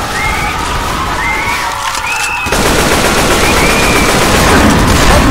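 Gunfire from the Left 4 Dead 2 Dead Center campaign, a dense stream of automatic shots filling the clip and growing louder and steadier after the first half, with no voices heard.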